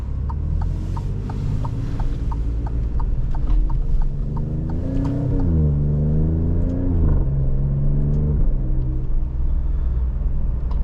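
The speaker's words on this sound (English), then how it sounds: "The ignition cuts on shifts are just so addicting." A 2020 Alfa Romeo Stelvio Quadrifoglio accelerates hard from inside the cabin, its engine rising in pitch through the gears with sharp ignition-cut pops at each shift, a loud continuous drone with crackly bursts.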